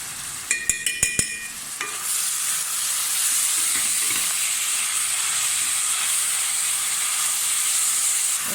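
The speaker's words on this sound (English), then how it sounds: "I'm now going to heat, and I'm going to add the onion in here" Onions with salt and garlic fry in a hot pan, giving a few sharp clatters at the start before a steady, loud sizzling hiss takes over and holds to the end.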